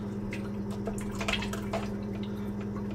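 Water drips and trickles as soaked cannabis plant material is pressed, with soft irregular droplets over a steady low hum from nearby equipment, close and fairly quiet.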